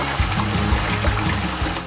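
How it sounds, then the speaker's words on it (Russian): Fruit rinsed under running tap water after a vinegar soak, a steady close splashing stream with soft irregular patter as the fruit is turned, continuous throughout with no talk. "После этого мы их изымаем и активно промываем проточной водой, чтобы остатки уксуса были смыты"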